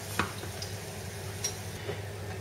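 Garlic cloves frying in hot oil in a pan, a soft continuous sizzle with a few faint clicks and stirring taps, quiet and close with no voices.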